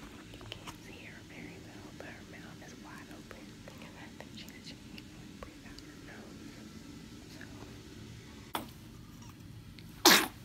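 Soft whispering murmurs on and off, then a short sharp sneeze near the end, close to the microphone.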